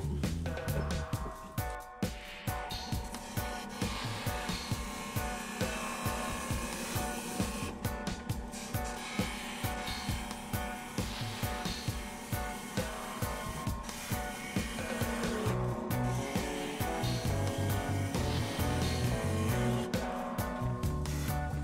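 A wood turning tool cuts a cedar vase spinning on a lathe, giving a steady scraping hiss with rapid regular rhythmic ticks from the rotating workpiece, continuous and fairly loud with no talking.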